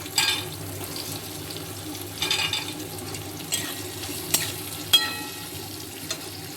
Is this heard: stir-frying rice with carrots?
yes